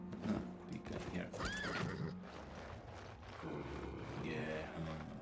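A horse in the online game Albion Online whinnies twice, with clip-clop hooves and game ambience around it. Someone speaks quietly over the game sounds.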